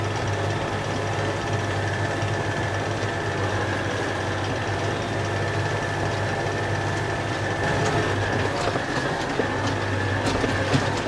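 A hay machine fluffing up cut hay in a farm field gives a steady, unbroken engine drone with a deep rumble and a constant mechanical hum, nearby and unchanging for the whole stretch, with no voices.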